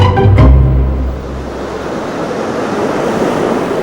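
Ocean waves on the rocky coast of southwest Portugal: a loud roar of surf and broad wash of foam, with a heavier low rumble at the start, then a steady rushing hiss.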